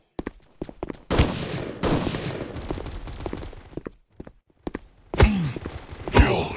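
Gunfire in the mobile shooter Guns of Boom on a Mexico Village map: sharp single shots and rapid bursts, close and loud, broken by short gaps and quieter clicks and thuds.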